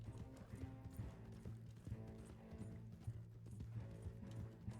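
Horse galloping in the video game Red Dead Redemption 2, a fast, steady clip-clop of hooves in an even rhythm under a low droning background, quiet overall.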